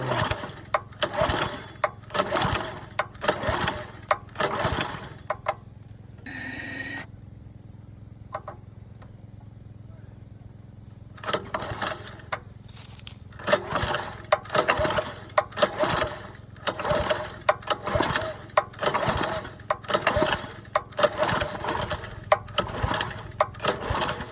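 A petrol-engine machine running on a petrol and oil mix chugs in rapid rhythmic pulses, close and fairly loud, cutting out for a few seconds midway before starting up again and running on.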